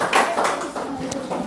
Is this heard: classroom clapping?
yes